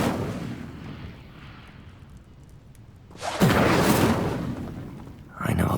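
Incendio fire spell cast in Hogwarts Legacy, heard as a sudden loud fiery burst that whooshes and roars for about two seconds, with a quieter rumbling stretch before it and a second burst starting at the end.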